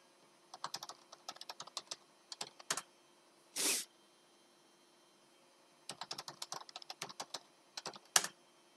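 Bursts of keystrokes on a computer keyboard as a command is typed into a terminal, two clusters of quick clicks separated by a single longer hissy key press, close and alone with no talk.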